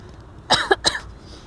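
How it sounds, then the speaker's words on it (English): A short burst of coughing, two or three quick harsh coughs close up, surrounded by quiet room tone. "Yeah, but I need a cough. Oh, go ahead and cough."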